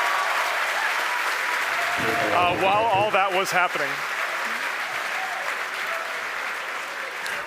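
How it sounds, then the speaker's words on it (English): A crowd at SpaceX headquarters in Hawthorne cheers and applauds loudly during a rocket launch webcast, a broad continuous roar with a commentator speaking over it midway. "The crowd's going nuts here at SpaceX headquarters in Hawthorne."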